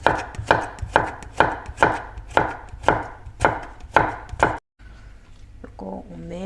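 A knife chops cucumber into julienne strips on a board, nine sharp, evenly spaced strokes at a steady rhythm, close and loud. After a brief break a person starts speaking.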